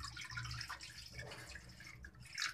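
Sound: pouring water into water chestnut flour

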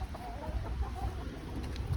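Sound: Lohmann hens clucking

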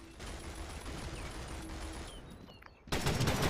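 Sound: gunfire in the video game World War Heroes

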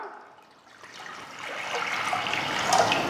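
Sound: water being poured into pot

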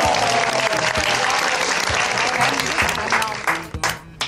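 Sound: audience applause

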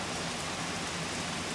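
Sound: rain falling in the street

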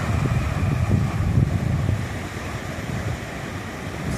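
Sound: sea waves

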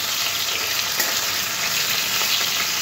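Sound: prawns frying lightly in oil

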